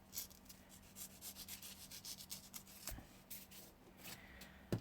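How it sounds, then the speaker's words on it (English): A small hand-held sander works on scratch-built miniature parts, giving a soft, steady rubbing and scraping texture with brief strokes, fairly quiet and close, with no talking. "I take my little sander here"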